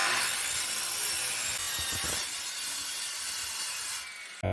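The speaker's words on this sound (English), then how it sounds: "Now I'm using a panel saw." A panel saw cutting through a wooden board for a cutting board, a loud continuous rasping roar of the blade that runs steadily and then drops away at the end.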